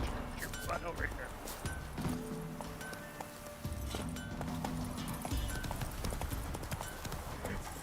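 Hooves of the horse Roach clip-clopping in a video game, a steady, close trot of rhythmic hoofbeats with music and game sounds in the background.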